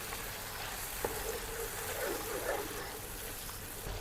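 Tomato paste sizzles in a pan of spiced masala for an aloo baingan curry, giving a steady crackling hiss with scattered pops.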